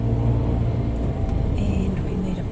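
A car works its way along narrow laneways beside Lake Como, Italy, its steady engine rumble and road drone heard close and continuous from inside the vehicle.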